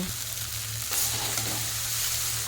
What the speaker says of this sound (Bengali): একটু ভালো মতো করে উল্টিয়ে পাল্টিয়ে ভেজে নিতে হবে